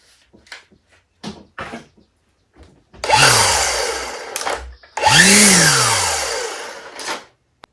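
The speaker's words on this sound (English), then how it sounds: "It also has 2 speed settings on the trigger. Sounds like it doubles the speed." A Milwaukee M18 brushless cordless string trimmer spins up in two loud, close bursts on its two-speed trigger, each whirring rise followed by a wind-down, with brief clicks and quiet gaps between.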